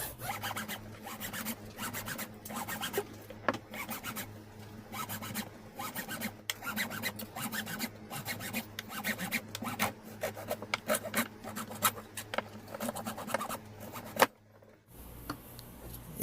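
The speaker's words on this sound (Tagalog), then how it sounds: "lagari ng bakal" A hand hacksaw cuts through a metal bike handlebar in quick repeated rasping strokes, close and fairly quiet, continuing steadily before stopping near the end.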